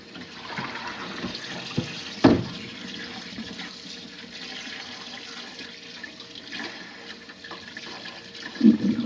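A kitchen tap runs water while fish are washed, a steady hissing flow with a few splashes and knocks in the sink.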